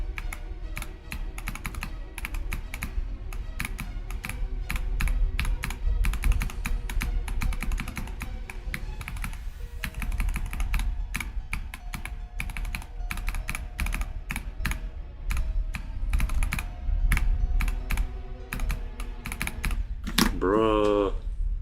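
Rapid, continuous clacking on a computer keyboard during a typing game, dense close keystrokes with brief pauses, and a short voiced sound breaking in near the end.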